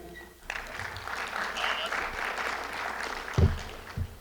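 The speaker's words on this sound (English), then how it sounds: "Can y'all clap it up for Athena?" An audience applauds a speaker at an FRC 2025 session, a steady wash of clapping rising after a brief quiet start and continuing throughout, with a couple of louder thumps near the end.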